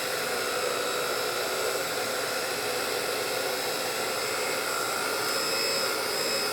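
A heat tool blows a steady, even rush of hot air over a puddle of alcohol ink on carbon fiber, constant and close with no talking.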